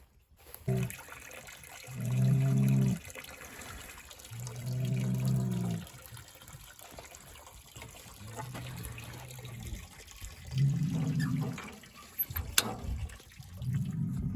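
Water running into a cattle water trough on a farm, flowing in several separate bursts with short pauses between them, fairly close and alone without talk.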